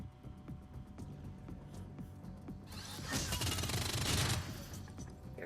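Bursts of gunfire in the Shadowrun: Dragonfall video game, quiet and distant at first, then building into a dense rattling volley toward the end, with no voices.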